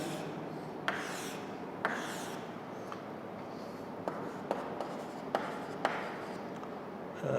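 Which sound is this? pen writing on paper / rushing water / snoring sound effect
pen writing on paper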